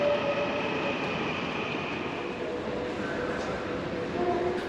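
A train sits or moves at a platform of Ankara Railway Station, giving a steady low rumble with faint metallic tones and station ambience that hold at an even level throughout.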